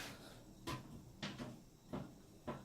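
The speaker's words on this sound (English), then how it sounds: "I have to do this or my door's gonna come back and hit me again" A hotel room door at a Hilton Garden Inn in Kenner, Louisiana swings and bumps shut, giving four soft, evenly spaced knocks at moderate distance in a quiet room.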